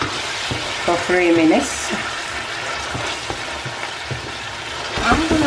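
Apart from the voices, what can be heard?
stirring and sizzling Ghana red snapper stew in pot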